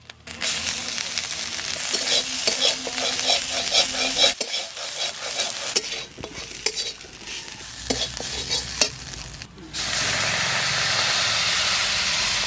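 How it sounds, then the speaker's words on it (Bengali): Grated coconut fries with ginger paste for channa dhoka, a loud continuous sizzle and hiss with repeated spoon stirring and scraping, the frying swelling louder toward the end. "নারকেলটাকে একটু ভালো করে ভেজে নিতে হবে।"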